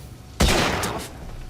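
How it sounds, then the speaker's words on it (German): A single sharp gunshot from the video game Hidden & Dangerous 2, a loud sudden crack with a short decaying tail, heard alone without voices. "Ein Schuss und ein Treffer."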